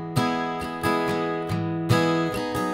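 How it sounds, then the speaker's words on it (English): Guitar strumming in the pattern for a song: six clear strums with ringing chords in a relaxed, slightly uneven rhythm, played alone and up close. "So again, with the strumming pattern, that would sound like this."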